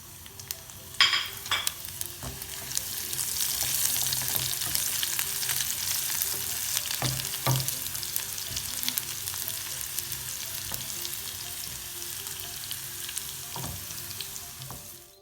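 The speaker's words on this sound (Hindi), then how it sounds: "अब ये मैं बघार लगा रही हूँ।" Garlic, curry leaves and cumin sizzle and crackle in hot oil as a tempering for a tangy raw-mango dal, a steady loud frying hiss with occasional sharp pops and stirring clinks, no talking.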